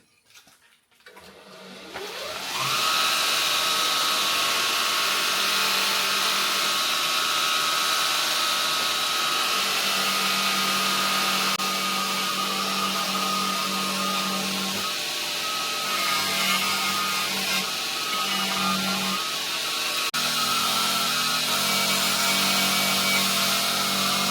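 An angle grinder fitted with a new wheel spins up quickly and then grinds steadily on the bodywork of a chopped L300 van. It makes a loud, continuous high whine that lasts for more than twenty seconds without a break.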